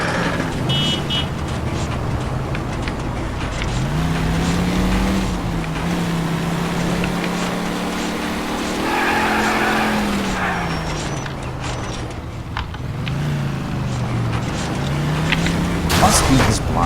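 A car cruising in L.A. Noire, a steady engine drone with tire and road noise shifting in pitch as it speeds up and slows, running under a voice for most of the stretch.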